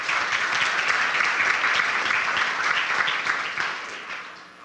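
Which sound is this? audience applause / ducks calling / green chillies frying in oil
audience applause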